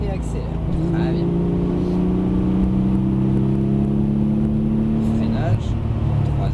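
A car on a track-driving course accelerates steadily and loudly, its engine note climbing in rising harmonic sweeps close to the microphone, with a voice speaking over it.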